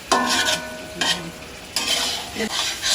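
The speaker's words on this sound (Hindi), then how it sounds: "और इसको हम अच्छी तरह भून लेंगे।" Homegrown green chillies fry for a chicken tikka karahi, sizzling loudly in bursts as they are stirred and scraped around the pan, with brief quieter gaps.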